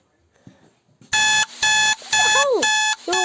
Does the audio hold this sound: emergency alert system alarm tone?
yes